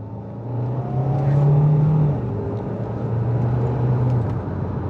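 A 2025 Hyundai Santa Fe Hybrid AWD engine revs up as the driver downshifts with the paddles, a loud close hum rising in pitch, settling, then rising again, heard from inside the cabin.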